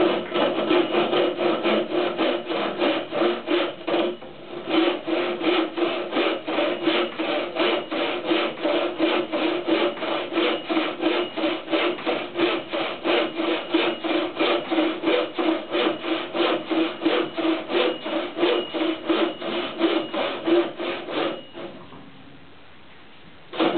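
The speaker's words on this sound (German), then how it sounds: "sägen würde ich jetzt mit der Schlitzsäge, die ein etwas gröberes Sägeblatt als die Absetzsäge" Steady back-and-forth strokes of a tenon saw cutting a tenon in wood by hand, rhythmic and close, continuing for many seconds before briefly pausing near the end.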